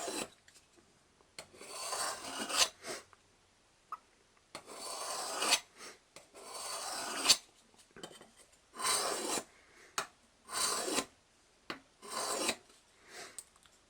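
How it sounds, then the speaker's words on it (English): A knife blade is drawn across a sharpening stone in a series of separate rasping strokes, each lasting one to two seconds with short pauses between them, close and fairly quiet. "which I'm not trying to take off with the sharpening stone"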